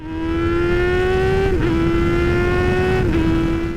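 A motorcycle engine holds a loud, steady high drone as it accelerates, with two quick clutchless upshifts from a quick shifter heard as brief dips in pitch.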